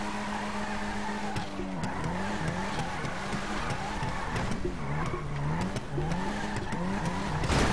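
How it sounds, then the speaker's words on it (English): Nissan R34 GT-R drifting in GTA 5, with a continuous engine drone and wavering tire squeal that swells and dips through the slides, loud and steady throughout. "the car is drifting great"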